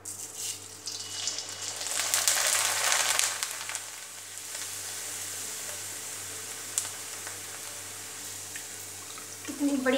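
Rice kachori, small crisps made from leftover rice, frying in hot oil, giving a steady close sizzle and crackle for the whole stretch, swelling louder for a moment early on, with faint splashes and a clink near the end.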